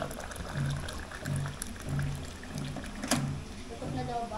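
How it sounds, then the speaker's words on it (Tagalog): Water is poured into a drinking glass in a home kitchen, a steady splashing trickle with gurgles heard close by, while people talk softly in the background. "lagyan natin siya ng tubig muna. Tubig para sa yung baso natin."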